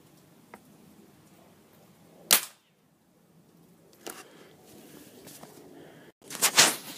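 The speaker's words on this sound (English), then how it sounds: "there's a nice ricochet effect with that" A $50 air rifle fires at a basketball in a backyard, giving a few sharp, crisp cracks spaced seconds apart. The last shot is louder and followed by a brief ringing ricochet.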